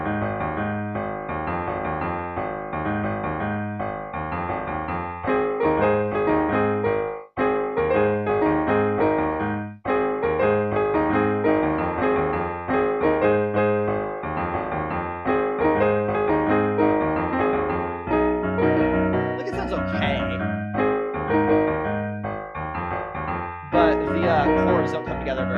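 A tune played on an electronic keyboard, a steady stream of bouncy piano-like chords and melody notes with brief pauses near the start and middle, and a few louder accents toward the end.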